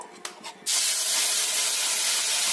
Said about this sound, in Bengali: এতে আমি দিয়ে দেব ব্লেন্ড করে রাখা মশলাগুলো